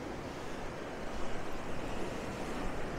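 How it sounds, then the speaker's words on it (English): Ocean waves wash onto Blackpool South Beach, a steady broadband rush of surf mixed with wind buffeting the microphone, swelling slightly midway and continuing without talk. "look at the light catching those waves there"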